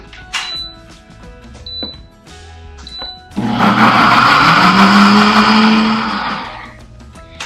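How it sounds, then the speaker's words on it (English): A blender whirs through soaked cashews for an oil-free tzatziki sauce. It starts with a few clicks and knocks, then a loud motor surge kicks in around the middle and its whine rises in pitch as the mix smooths out before winding down. "So now you're just gonna blend until it's smooth, maybe."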